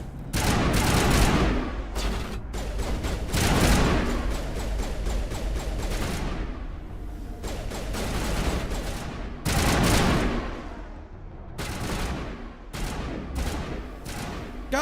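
Heavy gunfire in the Mass Effect 1 video game, loud rapid bursts of shots and automatic fire in dense volleys, broken by short pauses and resuming repeatedly, close and sharp with no talk.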